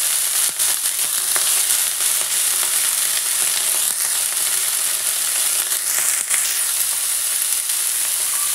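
Cut broccoli, stems included, fries in a hot pan with a loud, continuous crackling sizzle, punctuated by occasional clicks and scrapes of stirring, close up and without talk.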